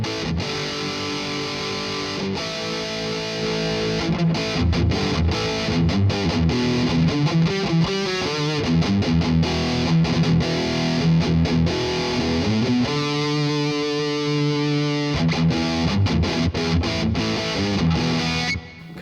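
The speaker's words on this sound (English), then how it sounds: "let's turn the EQ back off so you'll see what the neural amp modeler file sounded like again" Electric guitar played through a Soran Dual Stomp neural amp model with the EQ switched off, a sustained distorted tone with chugging palm-muted passages and ringing chords, loud and continuous throughout.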